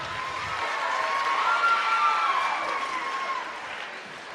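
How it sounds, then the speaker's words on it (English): Crowd applause with some cheering rises and holds steady, a dense wash of clapping from a large audience, then tapers slightly near the end. "Give these guys a round of applause as they come up."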